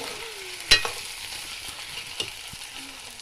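Masala fries in a pan for Nepali fish curry, a low, soft sizzle with a couple of sharp utensil clanks and scrapes as it is stirred.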